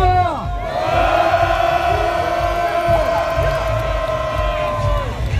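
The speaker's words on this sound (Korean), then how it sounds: "전방을 향해 3초간 함성 발사!" A crowd of citizens at a cold outdoor Democratic Party rally calling for Yoon Suk-yeol's removal lets out a loud, sustained cheer of massed voices that swells, holds for several seconds and then tapers off.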